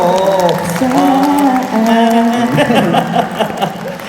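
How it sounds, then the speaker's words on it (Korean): At a fan-meeting concert, the audience answers with loud applause mixed with cheering and sustained vocal shouts, a crowded, lively roar that continues for several seconds. "와 박수가 이어집니다"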